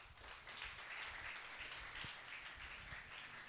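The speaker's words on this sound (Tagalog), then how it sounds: "Isa pang palakpak." A church congregation at a Filipino Sunday service gives a round of clapping, a steady, fairly soft patter of many hands that continues evenly throughout.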